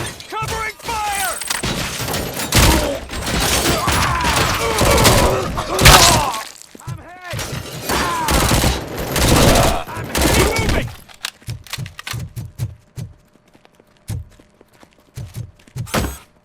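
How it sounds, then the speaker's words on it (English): Gunfire in the RoboCop: Rogue City video game, a dense burst of shots, shattering and impacts for several seconds, followed by sparser separate loud shots with short gaps as voices talk in the game. "Covering fire!"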